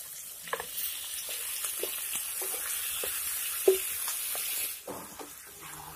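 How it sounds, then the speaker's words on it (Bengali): Goat meat tossed into lightly fried onions in a hot pan sizzles steadily throughout, with occasional clinks and stirring knocks over the continuous frying hiss. "পেঁয়াজগুলি যখন হালকা ফ্রাই করা হয়ে যাবে তারপর এর মধ্যে দিয়ে দিচ্ছি মেখে রাখা মাংসগুলি"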